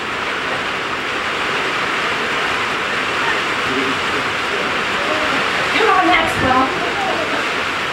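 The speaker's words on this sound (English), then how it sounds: "You can hear it pouring out there." Heavy rain pours outdoors as a constant, loud, broadband hiss over the full stretch, with a brief burst of other noise near the end.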